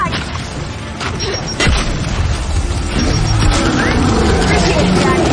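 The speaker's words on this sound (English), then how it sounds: "Throwing frag!" In the co-op game Gears 5, a frag grenade bursts in a train tunnel with a sharp, loud blast followed by rumbling debris and background combat noise.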